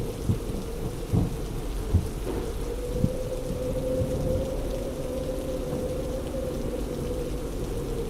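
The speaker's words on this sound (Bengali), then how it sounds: "আর চলছে মেঘের গর্জন।" A cartoon-style thunderstorm of torrential rain and gusting wind, with a continuous heavy downpour and several low rumbling thunder bursts scattered through it, loud and close, with no voices.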